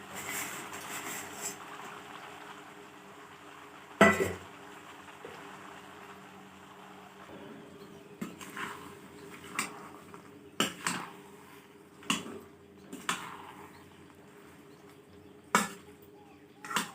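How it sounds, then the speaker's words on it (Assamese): A spoon stirs sweet bogori achar frying with sugar in a pan, giving intermittent scraping clacks against the metal over a low, steady sizzle in a quiet kitchen. "আৰু এইখিনিও মই এতিয়া ভালদৰে লৰাই ল'ম।"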